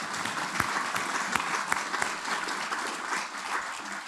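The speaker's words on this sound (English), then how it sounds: "let's have a round of applause for your Commandant and your faculty" A graduation audience applauds the commandant and faculty, a steady wash of dense clapping with a few sharper individual claps standing out, moderately distant and without talk.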